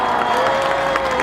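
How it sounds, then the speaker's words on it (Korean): A crowd at an outdoor street rally claps and cheers for elementary school children, with steady, dense applause and a constant tonal hum beneath it. "한번 크게 박수 쳐주세요"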